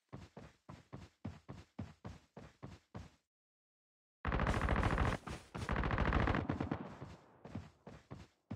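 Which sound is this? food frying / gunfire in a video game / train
gunfire in a video game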